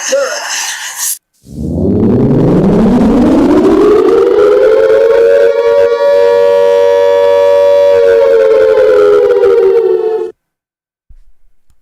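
A loud, wailing siren rises in pitch and holds a long sustained tone for about nine seconds before cutting off abruptly, heard alone and very near after a brief burst of other sound.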